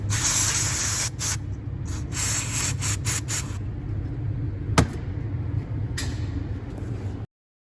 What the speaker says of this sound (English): So we'll just spray it, give it a quick soak